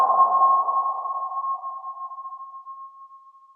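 A single submarine sonar ping rings out clear and alone, one bright tone that fades slowly over several seconds into a thin, lingering echo.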